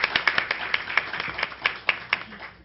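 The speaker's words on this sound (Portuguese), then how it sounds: "uma salva de palmas para o Dr. Rodrigo" Sparse, slightly irregular clapping from a few pairs of hands at a conference, close and moderately loud, fading out after a couple of seconds.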